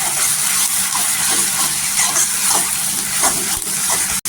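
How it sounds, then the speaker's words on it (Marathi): Onion paste sautéing in oil in a pan, a loud, dense, continuous sizzle with faint stirring scrapes, close up and without talk. "ती 2 चमचा टाकलेली आहे आणि छान अशी तेलावर आहे ना परतून घ्यायचा"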